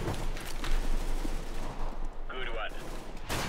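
Rapid gunfire in CS:GO from a Desert Eagle pistol, repeated loud sharp shots in quick bursts with heavy game noise, a brief tonal sound effect midway.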